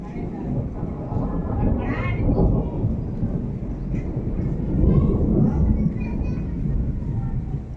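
A deep, continuous rumble of thunder rolls on for several seconds, broad and loud, swelling slightly partway through against a steady low roar.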